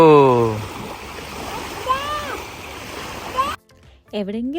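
Water churns and splashes nearby, with a sharper splash partway through as a stone drops in, while people talk over it, in Norway in summer.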